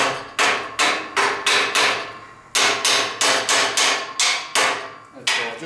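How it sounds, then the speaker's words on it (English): A copper hammer taps a part on a trenching machine crumbshoe boom to seat it during line boring, a series of about a dozen sharp, ringing metallic strikes in quick irregular bursts, close and loud with no talking. "I just take in this case, a copper hammer, just gently"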